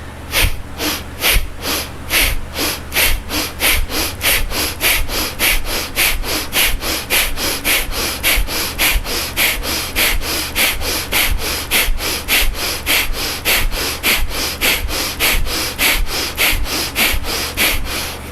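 Rapid yoga breathing exercise, a fast even train of sharp nasal exhalations, roughly two per second, close and loud for the full length with no talk.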